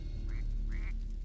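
A distressed bird, a duck or goose, gives two rising, nasal cries in a row, the second one longer, heard close against a steady low rumble of background noise.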